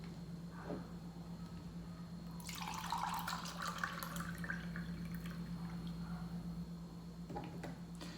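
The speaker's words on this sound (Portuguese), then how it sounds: "Eu coloco 1 de água e 1 de leite." Water and milk are poured into a bowl for cheese bread dough, a soft splashing pour lasting several seconds over a steady low hum, with faint drips around it.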